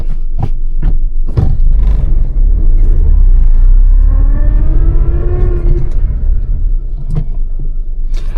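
A manual car rolls back on a steep hill while the driver works the clutch, with a close, loud low engine rumble, a rising and falling engine whine in the middle, and a few sharp knocks and scrapes.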